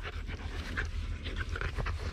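A dog pants rapidly and steadily at close range, quick breathy huffs repeating throughout with a low background hum and no speech.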